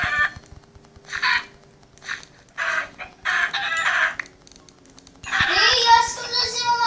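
Minecraft chickens on a Skyblock island give a series of close, separate clucks and squawks, spaced by short gaps, and a voice comes in near the end.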